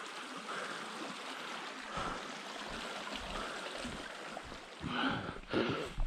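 Washington Creek flows steadily, a close, continuous rushing and trickling wash of water with a few louder gurgles near the end.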